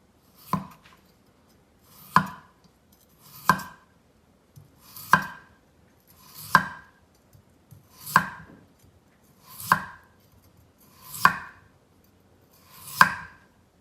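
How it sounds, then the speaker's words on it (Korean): A knife thinly slices a single potato on a cutting board, nine crisp, evenly spaced chops about every second and a half, close and clear with quiet gaps between and no speech. "일단은 감자를 좀 얇게 썰어줍니다"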